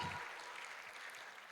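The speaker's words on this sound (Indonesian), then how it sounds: "Beri tepuk tangan yang luar biasa buat Tuhan." A congregation at Bethany Church in Blora claps briefly during a sermon, a faint, even patter of many hands with no voices over it.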